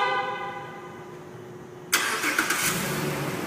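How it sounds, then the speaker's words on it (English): A 2010 Jeep Liberty 4WD Limited fires up by remote start: a tonal hum gives way to a sudden crank and catch, then the engine settles into a steady close idle with a few small surges. "I tested the remote start about a minute ago, and it works beautifully"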